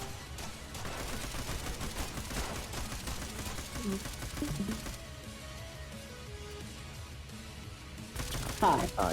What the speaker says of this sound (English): gunshots in my left ear.